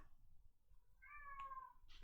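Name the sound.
cat meowing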